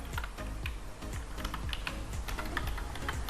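Python code is typed on a computer keyboard in a rapid, steady run of close clicking keystrokes that continues throughout over a low background hum, with no voice.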